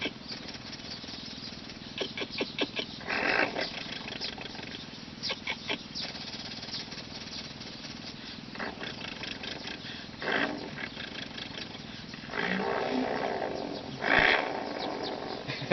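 A man imitates a car engine being started, producing rough rumbling, growling bursts with his voice, moderately faint with short pauses between efforts.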